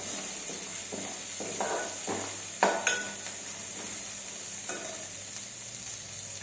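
Moong dal and tomato being stirred in a hot pan, a steady low sizzle with several scraping stir strokes and one sharper clink of the utensil, close and fairly quiet, no talking.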